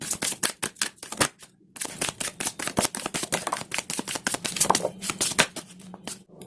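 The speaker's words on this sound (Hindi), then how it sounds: "पहले मैं कार्ड्स को शफल करूंगी।" Tarot cards are shuffled by hand in quick, crisp riffling bursts with short pauses between them, close and clear with no talking.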